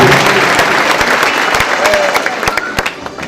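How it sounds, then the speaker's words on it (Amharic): Wedding guests applaud in a dense, loud burst of clapping that fills the room evenly and tapers slightly toward the end, with no talk over it. "እሺ አጨብጭቡ።"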